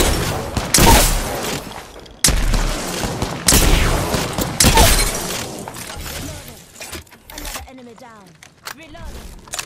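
Gunfire in an Apex Legends fight, several sharp loud blasts and crackling bursts of shots that come in clusters, with players talking over the action.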